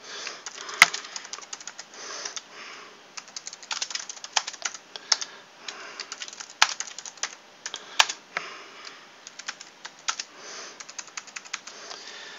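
Fingers type on a computer keyboard in a quiet room, a close, irregular run of light clicks and key taps with occasional sharper presses, no voices.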